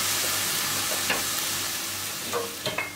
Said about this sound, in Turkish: Bu şekilde ara ara gelip karıştırarak kavurun